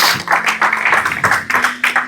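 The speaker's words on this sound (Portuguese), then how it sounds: "Você pode dar uma salva de palmas ao Senhor" A church congregation clapping in praise, a loud, close run of rhythmic claps in quick regular bursts.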